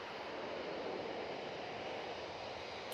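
An EasyJet airliner departs Manchester Airport, its engine roar a steady, broad, distant rush heard alone and fairly faint throughout.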